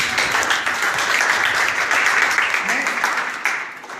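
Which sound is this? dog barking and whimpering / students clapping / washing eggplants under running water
students clapping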